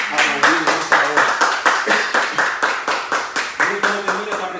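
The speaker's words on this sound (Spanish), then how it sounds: "Dame un aplauso a Cristo ahí donde está, si puede aplaudir en esta hora." Rhythmic hand clapping from a church congregation during a Spanish-language sermon, steady beats at roughly four per second, close and fairly loud, with voices mixed underneath.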